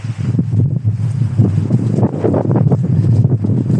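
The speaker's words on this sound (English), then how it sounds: "It's a bit windy." Wind buffets the microphone outdoors on a waterlogged riverside running route in Worcester, a steady loud low rumble with gusty surges throughout and no voices.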